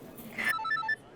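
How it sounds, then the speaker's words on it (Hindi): A telephone rings in a short electronic burst of bright, warbling tones, loud and close, with no voices over it. "रघु का फोन है।"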